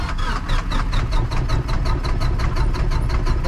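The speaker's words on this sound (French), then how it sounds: "Le moteur tourne" A light aircraft engine idles just after start-up before a training flight, giving a loud, close, even pulsing rumble with no one speaking.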